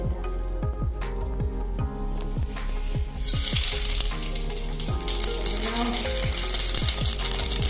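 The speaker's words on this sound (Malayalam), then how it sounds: "ഞാൻ ഇതിലേക്ക് കുറച്ച് കടുക് ഇടുകയാണ് കേട്ടോ" Mustard seeds popping in hot oil, a rapid string of sharp close pops over a steady loud sizzle that grows denser and hissier halfway through, with no talking.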